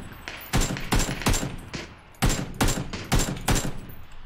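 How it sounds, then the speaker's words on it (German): Bursts of automatic gunfire ring out in the PUBG video game, several sharp rapid volleys in two clusters, loud and close with brief pauses between them. "das ist Schüsse"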